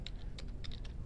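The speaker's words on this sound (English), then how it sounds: "Now, this is an auto shape, so I could simply type" Quick, uneven keystrokes tapped on a computer keyboard while working on a PowerPoint shape, a handful of light clicks close by over a low background hum.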